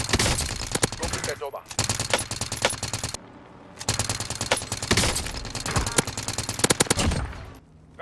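The Milano gun in a first-person video game fires in long rapid automatic bursts, loud and close, broken by a short pause mid-stream before firing resumes and then cuts off near the end.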